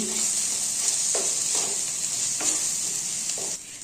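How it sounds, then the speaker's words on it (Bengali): A spoon stirs chopped tomato with dried chili powder, cumin powder and salt in a hot frying pan for chicken bharta, with rhythmic scraping strokes about every second over a continuous bright sizzle. "শুকনো লঙ্কার গুঁড়ো পরিমাণ মতো নুন টমেটো কুচি এবার একটু নেড়ে চেড়ে নিচ্ছি"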